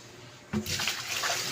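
Rinse water is poured out into a basin indoors, starting suddenly as a splashing gush that settles into a steady running pour for about a second, fairly close.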